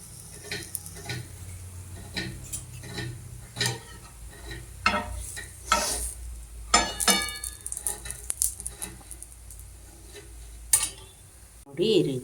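Bread pakoda shallow-frying in a pan with a little oil, a soft sizzle under scattered clinks and scrapes of a utensil stirring and turning the pieces, with a voice talking at times.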